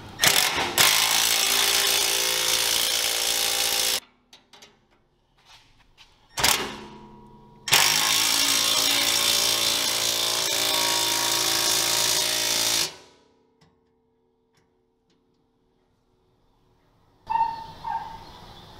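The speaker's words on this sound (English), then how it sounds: "We're gonna have to run this down with a impact wrench." An impact wrench runs bolts down on the hitch of a Spartan RZ HD zero-turn mower, sounding in loud sustained buzzing bursts of several seconds each, split by near-silent pauses, with no talking.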